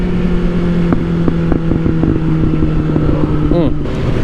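A Suzuki GSX-S 750 motorcycle engine runs at a steady idle with a constant low hum, faint intermittent clicks and wind rumble over it, plus a brief rising whine near the end.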